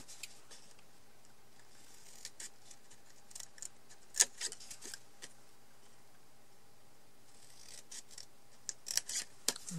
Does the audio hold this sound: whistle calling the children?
no